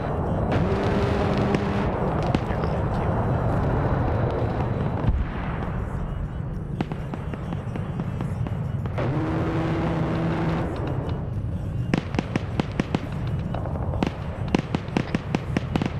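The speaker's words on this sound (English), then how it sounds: "Yeah, he's shooting at him." Gunfire and explosions in a military video game during an ambush on a cache raid: repeated sharp cracks and bursts of shots over a steady rumbling background, with a tight cluster of rapid reports toward the end.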